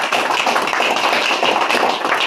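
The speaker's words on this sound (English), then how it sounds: "Round of applause for everybody that was involved." Model railroad club meeting attendees break into brisk, dense applause, close and loud, sustained evenly through the whole short stretch with no voices over it.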